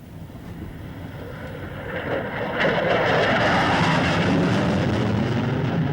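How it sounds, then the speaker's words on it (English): A supersonic jet passes overhead as a rising, broad roar that swells from a distant rumble to a loud, sustained rush outdoors. "that sounded like a supersonic jet."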